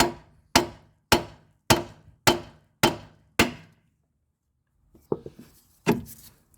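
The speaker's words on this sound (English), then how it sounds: "temporarily install the nut and just use a hammer to slightly tap it" Seven evenly spaced, sharp metallic taps of a hammer on a temporarily installed nut on a 2005 Toyota Corolla 1.8 steering knuckle, each ringing briefly, followed by a pause and a few lighter, scattered knocks.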